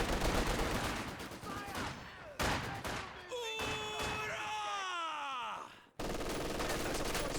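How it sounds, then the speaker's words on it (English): An M242 autocannon firing in a Company of Heroes 2 match, sounding as loud sustained bursts mixed with battle noise and a falling groan-like tone, with a short break before the firing resumes. "M242 firing away, suppresses down the conscripts"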